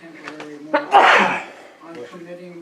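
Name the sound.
sneeze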